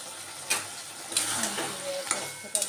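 A spoon stirs poppy seed paste and cumin in a pan, making a few sharp scrapes and taps spaced about a second apart over a soft, low sizzle.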